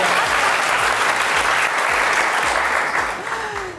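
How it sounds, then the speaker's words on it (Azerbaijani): An indoor audience at a youth-centre comedy show claps in a dense, steady burst of applause that fades slightly near the end. "Alqışlar."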